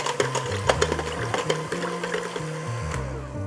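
An electric mixer whirs through coffee cake batter with almond and vanilla extracts, its motor pitch wavering and stepping up and down in a steady close hum for a few seconds.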